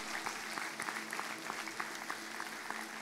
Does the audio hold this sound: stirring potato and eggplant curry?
no